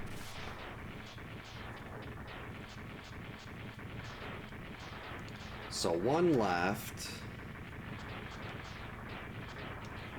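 Explosions boom in the Mega Man X3 video game (Zero Mod) during a boss refight. A continuous rumble of blasts runs under steady spoken commentary and swells briefly near the middle.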